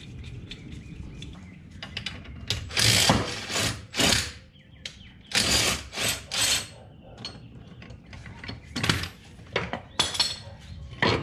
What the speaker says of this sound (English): I'll use the trusty ball joint press or separator and pop this one out too